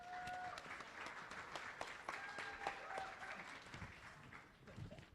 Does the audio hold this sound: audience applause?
yes